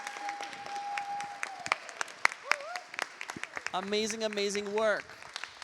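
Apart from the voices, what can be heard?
audience applause for the students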